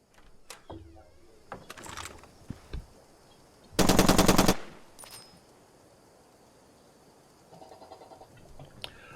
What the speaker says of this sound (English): we'll see how the audio sounds when I get my big gun out